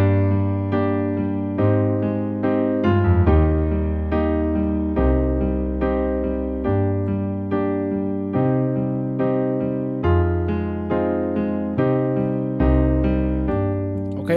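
Looping piano figure from a song, played as a short repeating phrase with sustained low bass notes under chords, steady and moderately loud with no voices.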